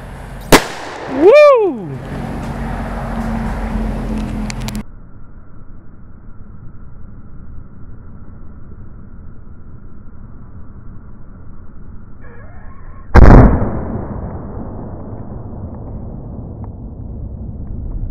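A sharp bang from a 3D printed breech-loading black powder pistol firing, preceded by a rising whine and followed by quiet; a second loud burst comes later and decays slowly.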